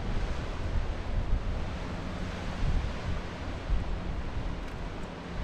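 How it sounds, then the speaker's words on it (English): Wind at Bard Lake in Thousand Oaks, California, a steady rushing gust through a swaying palm tree, loud and continuous with heavy rumbling buffeting on the microphone. "record this tree moving, the wind blowing"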